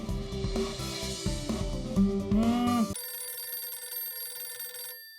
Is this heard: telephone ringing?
yes